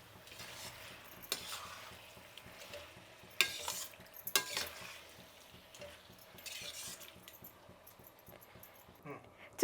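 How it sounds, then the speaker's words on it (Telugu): A Tamil Nadu style black chicken curry is stirred in a pan, a soft steady sizzle with occasional scrapes and clinks of the spoon, quiet and close, with no talking. "ఇప్పుడు ఒకసారి కలుపుకొని స్టవ్ ఆపేద్దాం."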